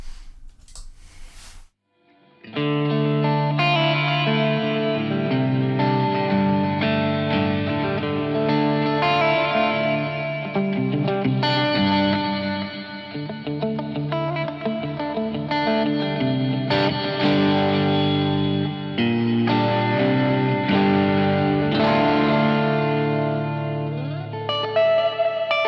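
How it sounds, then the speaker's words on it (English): A sustained electric guitar played through echo and reverb pedals rings out with lush reverb and echo trails, chords blooming and overlapping after a brief quiet start. "So let's add the reverb to it now."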